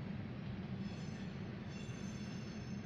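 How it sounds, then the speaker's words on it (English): A freight coke train's caboose and last cars roll past, a steady, loud low rumble of wheels on rail with faint rail noise, continuous throughout, no voices. "And there's the caboose on the Coke Express."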